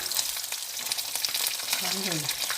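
Chicken wings sizzle and crackle in hot oil, a dense, bright frying hiss with scattered pops, while a faint voice murmurs briefly underneath.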